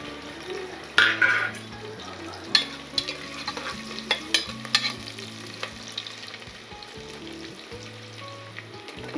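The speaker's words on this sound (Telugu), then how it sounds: "ఆయిల్ కాగింది కదా, ఒక ఉల్లిగడ్డ కోసి సన్నంగా కోసి వేసేసుకుందాం." Finely sliced onion frying in hot oil for a mutton leg curry, with scattered sharp crackles and pops over a steady sizzle, close by, plus a few spoon-against-pan scrapes and clinks.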